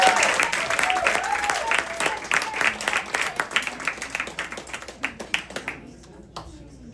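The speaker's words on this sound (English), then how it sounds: "Everybody, please clap your hands for Ms." A crowd applauds at an award ceremony honoring a woman of the year: loud, full clapping that stays strong, then thins and fades toward the end, with a few voices mixed in.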